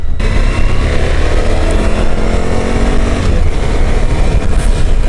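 A 2014 Suzuki V-Strom 1000 ABS motorcycle engine drones steadily while riding on the road, a continuous loud rumble with wind rush that stays even throughout with no talk.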